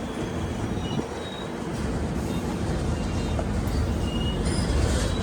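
Inside the Gomateshwara Express on the Yeswantpur to Mangaluru Junction run, a continuous loud rumble of wheels on rails rolls on steadily, with faint high squeals near the end.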